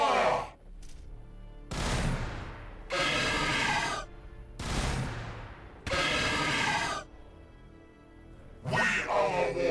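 Gunfire in the game Warhammer 40,000: Battlesector, loud close bursts of rapid automatic fire in several long volleys separated by short pauses, with a voice briefly heard between bursts.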